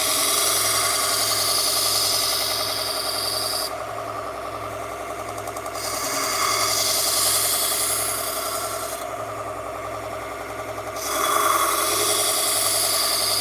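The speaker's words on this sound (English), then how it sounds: "You have to grind enough material away." A 1x30 belt grinder runs steadily while scissors and knives are sharpened, the abrasive rasp swelling and easing in long passes over a constant motor hum, close and alone.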